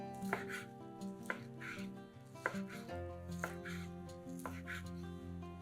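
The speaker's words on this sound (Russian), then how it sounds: "Блины уже остыли, нарезаем их колечками." A knife slices through cooled pancakes on a cutting board, cutting them into rings for a mackerel salad: a handful of crisp, separate chops at an uneven pace over soft background music.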